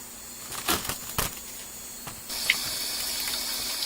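Cold tap water gushes into a kitchen sink over a pressure cooker that has just come off the heat, a steady hiss with a few clunks of the pot being set down at the start.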